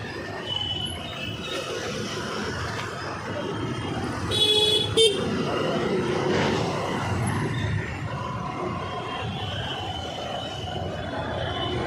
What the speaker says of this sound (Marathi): इकडे थोडंसं जाम आहे.